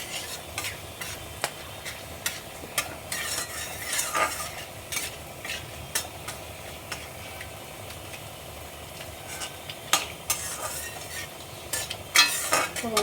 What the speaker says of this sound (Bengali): শুকনো লঙ্কা, দারচিনি, লবঙ্গ, এলাচ আর জিরে একটু ভেজে নেব।